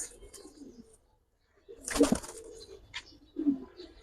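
A couple of soft, low coos from a nearby Giribaz high-flyer pigeon, separated by a short pause, with some rustling and flutter around them.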